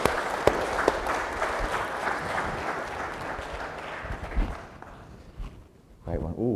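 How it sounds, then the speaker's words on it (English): An indoor audience at a talk breaks into steady, fairly close applause that thins out and fades over several seconds before a voice begins speaking. "Should we give show Emma a round of applause and appreciation?"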